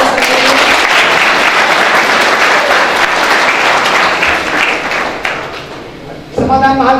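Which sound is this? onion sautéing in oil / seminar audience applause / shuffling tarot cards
seminar audience applause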